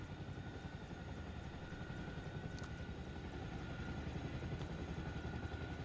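A Chinook helicopter in the military game Arma Reforger drones steadily throughout with a deep, continuous rotor and engine roar, heard from inside the cabin and loud, with no speech.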